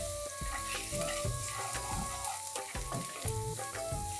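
Finely chopped green chili and fresh garlic fry in a pan with a steady, close sizzle, punctuated by spoon scrapes and clinks from stirring, with no talking.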